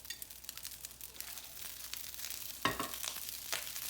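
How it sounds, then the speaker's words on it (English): Garlic fries in oil in a pan during fried-rice cooking, giving a soft, steady sizzle with occasional crackles and one sharper scrape, fairly faint and close. "I'm going to cook the garlic real quick. First, I'll add a little oil."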